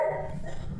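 A single close dog bark, short and sharp, with a slight growl as it trails off.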